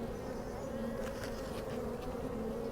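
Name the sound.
honeybees buzzing at an opened beehive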